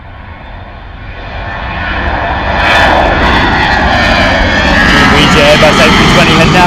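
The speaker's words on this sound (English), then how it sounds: "EasyJet Airbus A320 heading out to Split" An EasyJet Airbus A320 takes off from Bristol Airport, its jet engines swelling into a loud, close, steady roar that builds and holds throughout.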